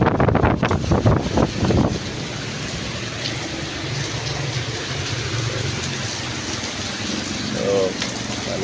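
Strong wind blows hard during a rainy storm, strong enough to nearly flip umbrellas. Gusts buffet the microphone in a constant rough roar with a rain-like hiss, and faint voices sound beneath it.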